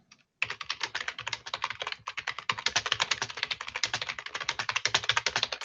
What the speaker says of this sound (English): A lot of furious typing going on there.